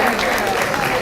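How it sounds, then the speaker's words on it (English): A brief burst of dense applause from an auction audience after a bid, the clapping steady and close, with faint crowd murmur beneath it. "That's worth a round of applause."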